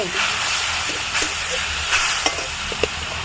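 Water poured onto dry spices frying in hot oil, giving a loud, sustained hiss and sizzle with a few sharp clinks of a stirring spoon against the pan.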